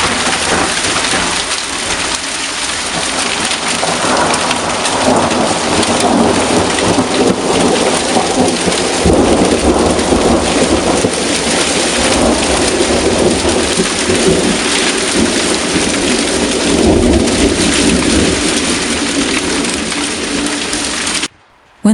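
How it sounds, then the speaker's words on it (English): Steady heavy rain pours throughout, with deep rolling thunder rumbling underneath, continuous and close until it cuts off at the end. "Lightning and thunder began to flash."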